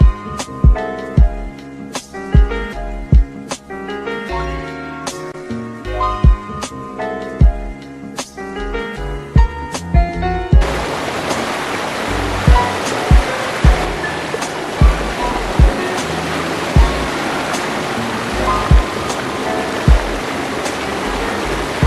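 Loud roaring waterfall after rain, the rushing water a dense steady wash that swells in the second half, with the first part carrying music over the water noise.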